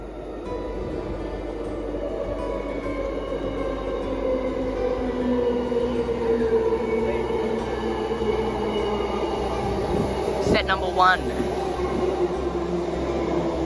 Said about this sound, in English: This is the first train, I think, first A-series at Bayswater Station.